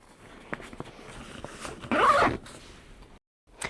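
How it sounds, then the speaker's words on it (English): A zip slides along the full-height front pocket of an Eastpak Tranverz Medium rolling holdall, one close, rasping pull rising to a brief louder stretch before a short silence and a final tug. "On the front we have a zip pocket, the full height of the front of the bag."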